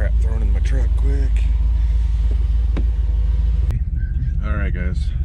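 A warmed-up pickup truck engine idles with a steady low rumble throughout, while someone talks over it.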